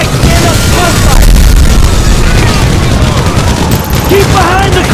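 Dense gunfire bursts and rattling shots in a GTA V street shootout at a roadblock, loud and continuous, mixed with shouting voices throughout.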